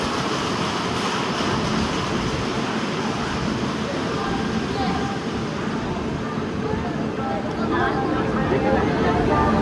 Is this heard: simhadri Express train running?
yes